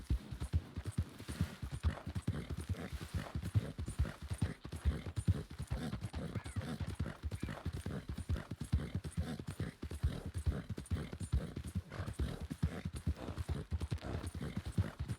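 Fast, steady hoofbeats of a galloping horse in Red Dead Redemption 2 drum on without a break, close and even, and no one speaks.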